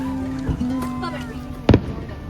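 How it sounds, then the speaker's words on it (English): Fourth of July fireworks burst outdoors in two sharp booms about a second apart, heard over chatter and excited voices from a family gathering. "Fireworks. Fireworks."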